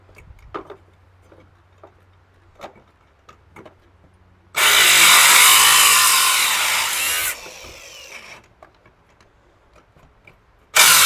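On a K3500 truck, a power tool cuts through a radiator line. After a few soft ticks and taps, one loud buzzing burst runs for about three seconds, fades off, and a second brief burst starts at the end.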